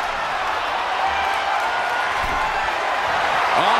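Crowd roar in the wrestling game WWE 2K24, a dense, steady wash of cheering from a large arena audience, loud and continuous throughout.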